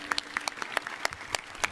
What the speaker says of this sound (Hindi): एक बार इन सबके लिए भी ताली बजा दो